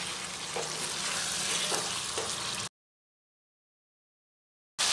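Mutton being stirred with biryani masala, kewra water and rose water in a hot pan, a close steady sizzle with soft scraping for a few seconds, then a sudden break in the sound before the sizzling returns.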